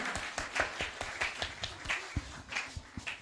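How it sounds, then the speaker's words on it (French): An audience at a church prophetic service clapping loudly, a brisk uneven run of claps with louder peaks, filling the whole moment without speech. "Acclamons très fort pour la restauration de notre sœur"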